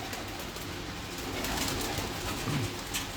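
Pigeons coo with low, soft, throaty calls against a dense, steady wash of background noise, one brief warble rising near the end.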